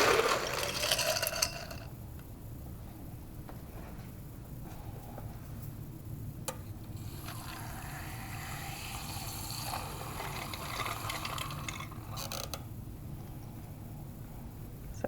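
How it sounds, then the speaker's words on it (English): Water pours onto ice in a laboratory beaker to make an ice bath, a steady trickling fill with faint clinks, quiet and close, lasting several seconds before trailing off. "So I'm gonna scoop some ice up into this beaker and then add some water to it"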